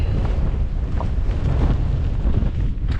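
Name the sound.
wind blowing on the Skye Trail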